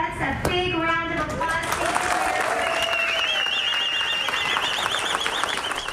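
A crowd claps and applauds veterans on an Honor Flight trip, steady clapping with cheering voices and a whistle rising above it.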